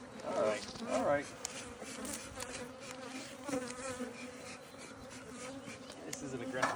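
Honeybees from an aggressive hive buzz close by in a dense, wavering hum, with individual insects droning nearer and farther.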